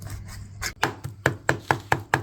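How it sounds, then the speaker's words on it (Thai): A knife chops Chinese fish meat into small pieces on a plastic cutting board: about eight sharp, evenly spaced knocks that quicken into a steady rhythm, close and clear with no talking. "หั่นออกเป็นชิ้นหน่อยๆนะครับ"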